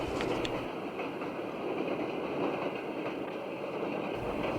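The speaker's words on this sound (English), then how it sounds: "Just beyond the depot, the train passes over the Little Androscoggin River Bridge." Train on the St. Lawrence and Atlantic line in winter crossing the Little Androscoggin River Bridge near the South Paris depot, a steady rumbling roar of wheels on rails with faint rhythmic clatter, sustained and even, no voices.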